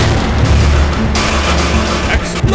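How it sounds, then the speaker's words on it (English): An explosion in the Halfquake Trilogy video game, a loud dense blast with booming, crackling noise filling the whole stretch and a sharper burst midway. "Explosion!"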